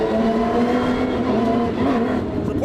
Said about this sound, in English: So Porsche's kicking off right now. Lead car just passed, as you guys saw.